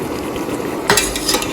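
Beef being stirred and fried with cumin, coriander, crushed pepper and red chili powder for haleem: a steady sizzle under scraping, then sharp spoon-against-pot clatters near the end, close and fairly loud, no talking.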